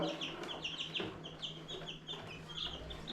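Soft, repeated high peeping and clucking from a group of 7 to 15 day old chicks, steady and continuous over a low background hum.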